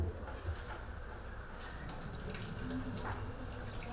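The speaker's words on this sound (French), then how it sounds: "Lavez vos mains avec de l'eau et du savon avant la naissance et portez des gants." Tap water runs steadily into a sink for handwashing before a birth, a constant close splash and trickle with a few faint drips and no voices.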